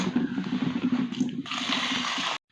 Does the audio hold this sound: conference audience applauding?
no